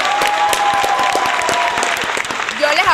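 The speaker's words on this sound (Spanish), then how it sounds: "Vamos a darnos un aplauso" Loud studio audience applause with cheering fills a Venezuelan political talk show set, dense steady clapping close up, with voices shouting over it toward the end.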